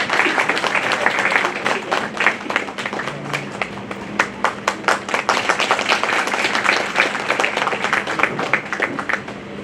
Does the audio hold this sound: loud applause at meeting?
yes